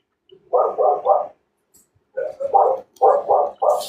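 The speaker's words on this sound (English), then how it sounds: "Sorry about my dog." A dog barks loudly and close by in two bursts of rapid, evenly spaced woofs, three and then six, with clear silence between the bursts and no talk.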